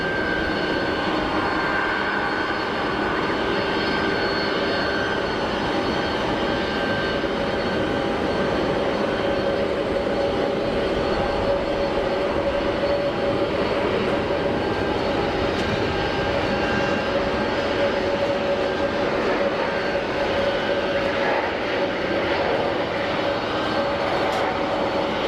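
Airliner taxiing at Geneva Airport, a steady loud engine drone with a constant whine holding throughout, mixed with gusts of wind noise and no voices.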